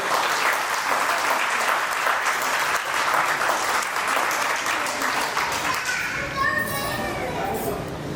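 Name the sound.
applause, loud clapping for anchor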